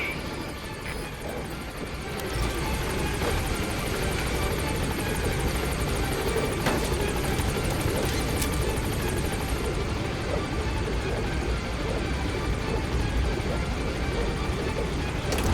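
A helicopter arrives at a landing zone in the game Metal Gear Solid V: The Phantom Pain, its rotor throbbing loud and continuous after swelling in during the first two seconds, with faint radio-style voices beneath.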